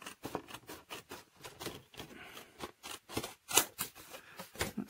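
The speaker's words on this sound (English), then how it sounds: "I try and cut it with my scissors" Scissors snipping through paper during a junk journal pocket craft, a quick run of short crisp cuts in an irregular rhythm, close and fairly quiet, with no voices.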